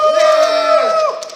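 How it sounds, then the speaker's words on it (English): A basketball crowd cheers in anticipation of the game, a short loud burst of sustained voices that tails off after about a second. "the crowd is getting excited and cheering in anticipation for the game"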